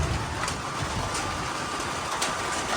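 Light drizzle falling steadily in a garden house setting, a soft continuous hiss of fine rain on surfaces with a few faint louder drops, fairly quiet and even throughout, no voices.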